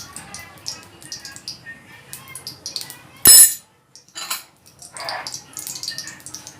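A spoon stirs a besan paste with turmeric and a pinch of hing in a bowl, giving soft scraping and light clinks with one sharp knock against the rim midway.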